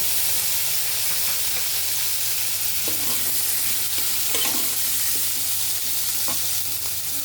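Chopped potatoes and onions fry and are stirred in a pan, a loud, even sizzle running throughout, broken by occasional scraping strokes of a spatula.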